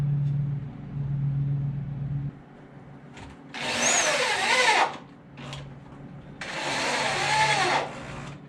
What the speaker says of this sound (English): I got the filling done with the epoxy putty and sanded back down